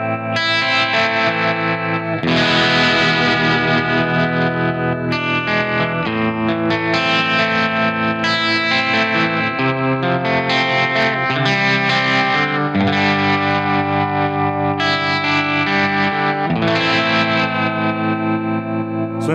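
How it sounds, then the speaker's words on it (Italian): Electric guitar runs through a Universal Audio tremolo pedal with spring reverb on, playing sustained 1960s-style chords and melody that pulse steadily and ring out loud and continuous, with no voices. "Vado sul tremolo, lascio acceso lo spring reverb che ho in questo momento sul Golden per far sentire dei suoni super anni 60."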